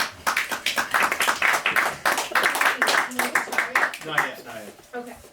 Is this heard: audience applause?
yes